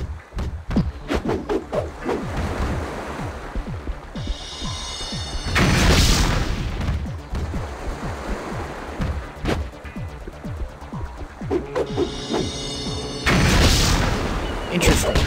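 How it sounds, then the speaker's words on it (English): Game blasts from Shocker striking Rhino in the PSP Spider-Man 2, a string of heavy booming explosions with thuds and impacts, two especially loud bursts near the middle and end, over a busy combat soundtrack. "Rhino isn't moving quick enough to dodge Shocker's blast."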